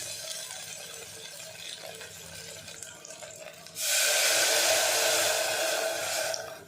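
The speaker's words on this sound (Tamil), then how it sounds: "நான் வந்து இப்போ ஒரு கப்பு தேங்காய் பாலும் ரெண்டு கப்பு தண்ணியும் ஊற்றுறேன்" Coconut milk and water poured into a pot of fenugreek rice; a quieter hiss first, then a loud steady rushing pour from about four seconds that cuts off near the end.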